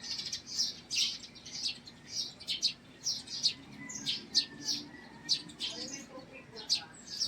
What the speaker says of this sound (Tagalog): Sarap ng huni ng ibon.